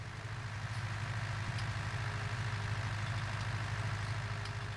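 A tractor engine idles in Farming Simulator, a steady low rumbling drone with an even throb that stays constant and fairly quiet, with no voices over it.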